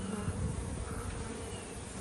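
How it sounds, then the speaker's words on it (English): Honey bees drone around their hives in an apiary, a dense continuous buzz from many insects together, steady and fairly close, with no voices. "the bees are all secured, all cleaned up around the apiary"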